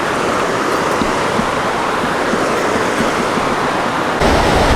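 Water rushes loudly down a natural rock water slide into a pool beside a High Sierra trail on the Pacific Crest Trail, a steady, close, dense roar with no talk.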